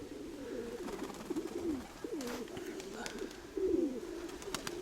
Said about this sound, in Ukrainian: такий красивий голубок